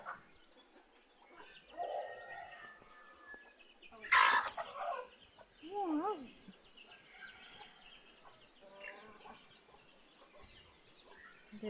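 Several chickens cluck softly in a quiet farmyard, broken by a sharp flurry of squawks and wing flaps, then a rooster's wavering crow.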